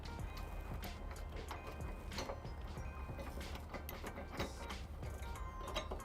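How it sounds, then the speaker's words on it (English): A nut and washer are hand-tightened onto a trailer hitch bolt on a 2011 Ford Edge, giving faint, irregular metallic clicks and scrapes, close by, over steady background noise. "I'll use my nut and washer to hand tighten onto the hitch"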